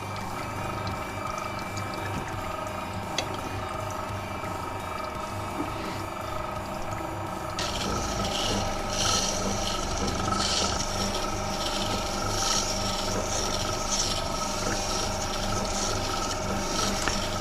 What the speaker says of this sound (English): the wet grinding, is far safer than the dry grinding